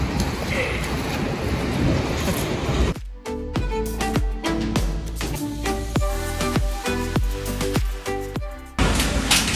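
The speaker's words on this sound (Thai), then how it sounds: "ฝนตกนะคะก็เลยไปไม่ได้เนาะ" Heavy rain falls near a hotel in Bang Na, Thailand, as a loud, steady hiss at the start and again at the end, with rhythmic music playing in between.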